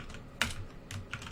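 Typing on a computer keyboard: a few quick keystroke clusters tap out at moderate level over a quiet background, with brief pauses between bursts.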